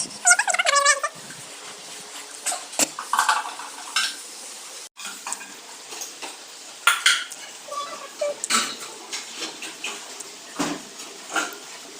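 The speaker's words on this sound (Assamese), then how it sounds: "তুমি কি কৰিছা বাচন ধুইছা" Dishes and utensils being washed: repeated clinks and clatters of metal pots and cutlery knocking together in irregular bursts, close by, with running water and scraping between the impacts.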